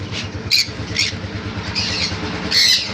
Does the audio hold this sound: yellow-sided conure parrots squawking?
yes